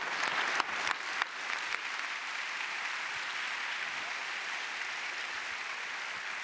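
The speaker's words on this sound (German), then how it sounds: "Applaus für den Dömmel" Live audience applause in a theatre hall during a comedy stage show, beginning with a few distinct sharp claps and then settling into a dense, even, sustained roar of clapping from a full house.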